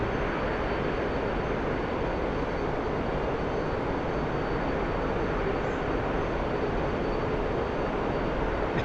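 F-15EX jet roaring steadily in the DCS flight simulator, a dense, constant engine rumble with no breaks and no speech over it.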